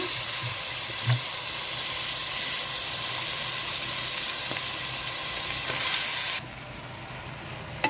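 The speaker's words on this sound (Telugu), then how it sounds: "రైస్ వేస్తానండి బాగా కలుపుకుందాము" Soaked basmati rice tipped into a hot pot of oil and stirred, a steady close sizzle with scraping and a couple of soft knocks, the frying quieting somewhat toward the end.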